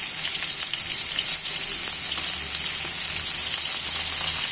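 Ginger, garlic and onion paste fries in a pan for a radish greens dish with pangas fish, producing a constant, fairly loud hissing sizzle with faint stirring and no voices.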